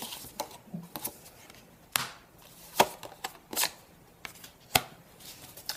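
Tarot cards are shuffled, snapped and laid down on a table in a series of sharp, close slaps and soft rustles at irregular intervals, with no talking.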